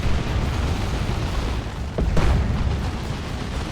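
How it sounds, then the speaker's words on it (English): Boomy zap-gun shots in a Dawn of War 2 battle between Chaos Space Marines and Orks, a heavy rumbling blast swelling midway over steady low battlefield noise, with no talk. "Big boomy zap gun shots."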